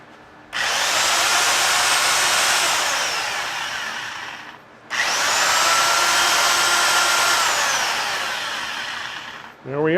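A corded Dewalt DW130 drill, a single-speed 450 RPM model, whines loudly in two sustained runs of about four seconds each, first forward and then in reverse, with a short gap between them.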